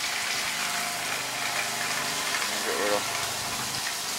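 Air pressure drives water from the top of a hot water tank out through a drain hose during winterizing, a constant loud hissing gush with no break, while a voice briefly cuts in over it.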